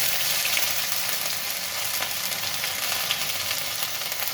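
Whole cumin seeds and a little ginger fry in hot oil, giving a dense, continuous hissing sizzle that stays loud and even from start to finish, close up with no voices.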